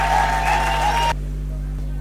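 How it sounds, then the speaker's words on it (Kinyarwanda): Loud applause from a crowd at a wedding welcoming the bride, dense clapping for about a second before cutting off abruptly, leaving steady low hum. "Amashyi menshi twakira umugeni muryango mugari"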